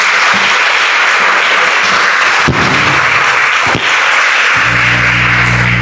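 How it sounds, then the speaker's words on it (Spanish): A church congregation at a Catholic healing workshop gives a loud, dense round of applause that runs continuously for several seconds, punctuated by a few heavier thumps. "Vamos a darle un fuerte aplauso a Jesucristo."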